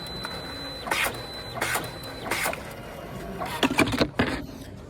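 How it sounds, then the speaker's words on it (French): A printer feeds out three leader strips, giving a series of short, crisp mechanical whirs and clicks in separate bursts, close and moderately loud with a faint steady tone between them. "L'imprimante va sortir 3 amorces."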